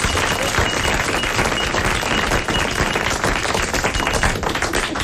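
Sustained, dense studio audience applause on a 1984 French television talk show, loud and steady throughout with no voices over it.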